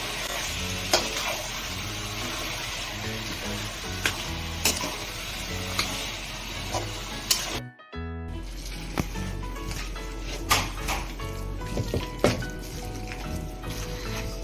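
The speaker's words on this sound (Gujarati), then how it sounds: "આને એક વખત પહેલા આપણે હલાવી કાઢીએ, પછી એને મેશ કરીશું." Boiled pav bhaji vegetables (cauliflower, potato, tomato) being stirred in a pan give a low sizzle under repeated clicking spatula taps, cut by a brief silence partway through.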